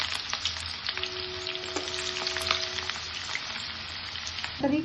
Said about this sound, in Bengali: এদিকে তেলটা গরম হয়ে গেছে, এখন পেঁয়াজ বেরেস্তাগুলো ভেজে নিচ্ছি।